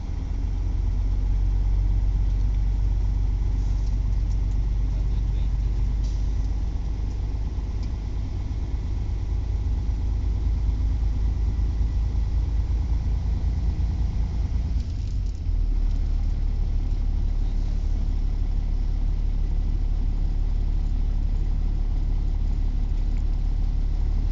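A truck engine held at 900 RPM to build air pressure for a brake system air loss test, droning as a steady low idle-like rumble throughout, close and continuous, with a brief dip partway and no talking.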